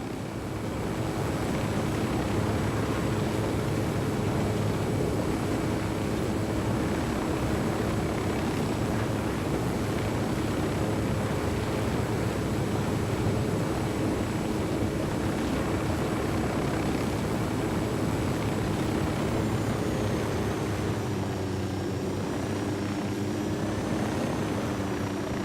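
Helicopter flying in Ghost Recon Wildlands, a steady droning rotor and engine hum held at constant loudness throughout, with a slight pitch shift near the end and no talking.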